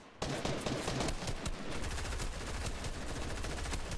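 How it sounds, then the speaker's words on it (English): Rapid bursts of Fortnite gunfire crackle nonstop, sounding like automatic weapons firing in quick succession at close range. "Oh, somebody's shooting at me."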